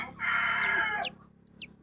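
Rooster crowing nearby, one drawn-out crow followed by a short high squawk after a brief pause, heard alone.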